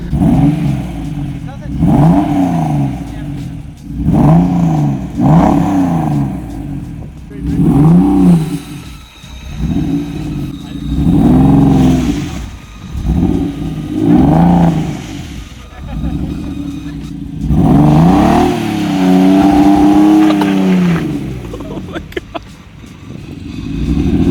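An Acura NSX supercar engine starting and revving on a cold day, with repeated rising throttle blips and a rough idle, loud and close, under people talking.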